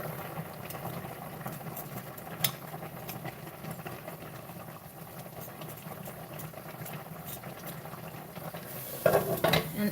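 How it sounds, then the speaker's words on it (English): Pot of chicken and vegetables with papaya simmering in coconut milk, a steady bubbling and stirring texture at moderate level throughout, with a brief louder clatter near the end; no talking. "So it's really boiling away"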